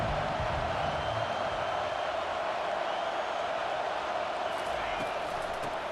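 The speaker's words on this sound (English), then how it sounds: "Decibels rising as the crowd gets behind this defense on third down." A stadium crowd in the EA Sports College Football 25 video game roars steadily as fans back the defense on third down, a dense, unbroken wall of noise running loud throughout.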